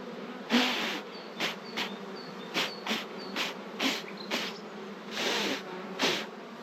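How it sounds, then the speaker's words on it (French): Honeybees buzz in loud, swelling bursts as they are gently brushed off queen-rearing cell bars, close up, with short pulses of buzzing rising and fading in a loose rhythm. "Délicatement, j'enlève les abeilles."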